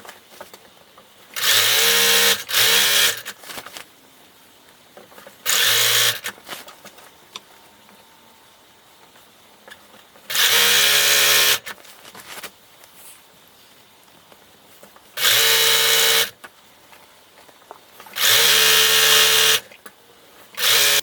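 A sewing machine stitches the front and hem of a fabric costume robe, running in about six short bursts of steady, close whirring separated by quiet pauses.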